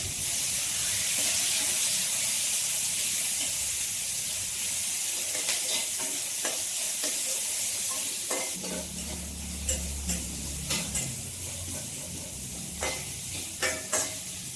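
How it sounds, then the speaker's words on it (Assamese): Onion and spices for an Assamese fish curry with black gram fry in a pan: a soft, steady sizzle, then louder as stirring begins, with repeated scraping knocks of a spoon against the pan close up. "এইখিনি অকণমান সময় মই ৰঙা হোৱালৈ ভাজিম"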